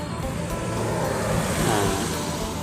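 Steady roadside traffic noise from passing cars near a cave fills the moment, a loud continuous whooshing rumble with no voices over it.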